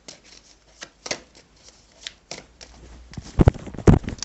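A deck of tarot cards is shuffled up close, with soft riffling flicks and light slaps, building into a couple of louder, denser riffles near the end.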